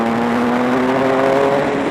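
A 2007 Triumph Tiger 1050 triple-cylinder motorcycle pulls hard under acceleration, its engine note rising steadily in a loud, smooth drone heard from the rider's position.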